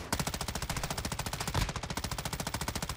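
Rapid automatic gunfire in the Call of Duty video game rattles out in one continuous fast burst of evenly spaced, loud shots that lasts for about three seconds.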